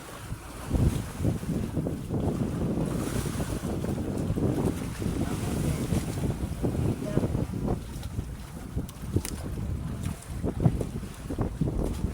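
A motorized bangka boat hums across the water under gusty wind noise and splashing, the motor's low rumble steady throughout; a faint voice may be present.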